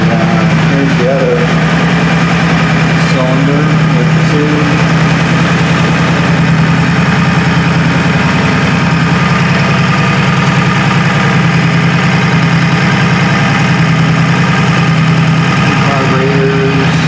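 A Honda Shadow 1100 shaft-drive motorcycle idles steadily with a low, even throb that runs throughout and stays close and loud, while someone talks over the engine.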